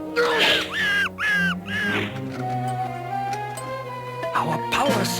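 Crow caws in a fantasy cartoon, three harsh repeated calls in quick succession, loud and close, followed by a sustained orchestral music bed.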